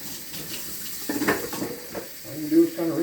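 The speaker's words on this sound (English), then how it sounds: "I'm just kind of rinsing the soap out of it now." A sponge is rinsed of soap under a running kitchen tap, with close, steady water splashing and gurgling as it is squeezed, over about three seconds and with no speech.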